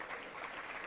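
Brief, faint, continuous crowd applause for Lyndon Johnson on an archival recording, a soft wash of clapping with no distinct individual claps.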